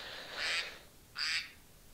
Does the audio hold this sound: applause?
no